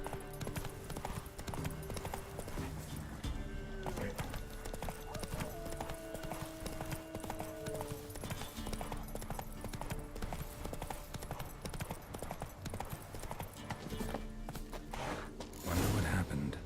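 Roach the horse's hooves clip-clop steadily on a town street in the video game The Witcher 3, with an occasional whinny and creaks, mixed with ambient game sound and a voice speaking briefly.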